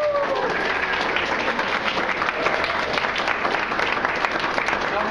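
Sustained applause from a live audience for Darlene Young, the first-place winner of the 2015 Mormon Poetry Slam: dense, steady crowd clapping that holds at an even, fairly loud level throughout with no break.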